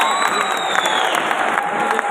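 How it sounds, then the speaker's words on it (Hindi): An audience at a speech event claps loudly, a dense continuous burst of applause with some crowd noise, steady and close throughout the short stretch. "एक बार जोरदार तालियां हो जाए"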